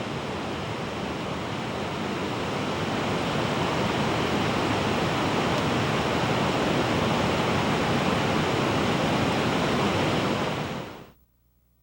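A waterfall in the Southern Appalachian Mountains pours in a continuous, dense roar of rushing water, loud and unbroken, then cuts off abruptly at the end.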